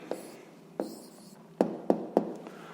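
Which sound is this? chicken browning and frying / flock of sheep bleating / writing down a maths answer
writing down a maths answer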